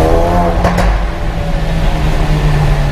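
A Ford Focus RS MK2 accelerates hard with a loud, continuous engine roar from inside the car and a short burst of noise near the start, with no talk.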